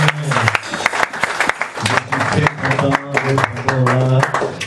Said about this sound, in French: Donnons-lui une acclamation.